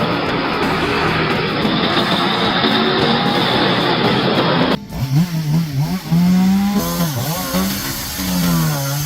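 Chainsaw cutting firewood, a loud steady engine roar through the first half that drops away into a lower, wavering idle with rising and falling revs.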